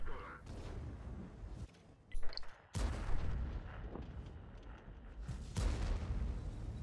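Tank guns fire in a World of Tanks clan battle on Sand River: heavy booming shots and rumbling impacts recur at irregular intervals under a steady game background, with voices talking in between.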